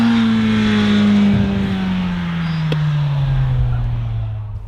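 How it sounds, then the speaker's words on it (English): A 2025 Kawasaki Z900 motorcycle engine sings high near the red line, a loud close steady drone that slowly falls in pitch as the revs ease off. "when it's sort of singing at the red line, it is a really nice motor"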